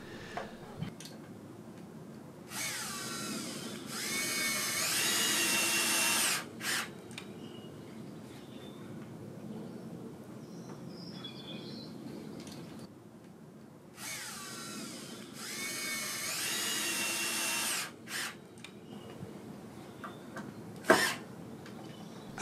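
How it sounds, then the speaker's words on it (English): Power drill driving screws to fix a plywood bird box bracket onto an outdoor fence: two whirring bursts of a few seconds each, separated by quiet stretches with faint ticks and a sharp knock near the end. "The bracket really helps keep it in place here while I drive home the screws."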